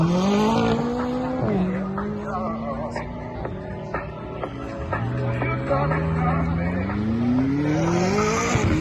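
A supercar with an aftermarket exhaust leaving a car show, engine revving and rising through gears as it accelerates away, loud and near with some tire squeal, while people talk in the background.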